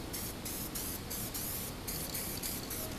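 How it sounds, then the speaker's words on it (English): Black guide coat sprays onto a car body panel in auto body work, a close continuous aerosol hiss in short repeated bursts with brief gaps between them. "I want to spray a little bit on here."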